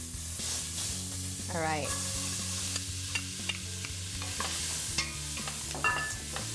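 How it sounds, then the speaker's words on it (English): Butter melts and onions fry in a stock pot, giving a light sizzle with occasional stirring scrapes and clinks over a low steady hum, and a voice speaks briefly. "I'm gonna melt this down and then add my onions to soften that up."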